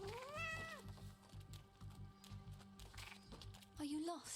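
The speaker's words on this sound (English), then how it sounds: "Hello, kitty cat." A cat in the video game Hades II gives two clear rising-and-falling meows, one at the start and one at the end, over game music with footstep-like clopping.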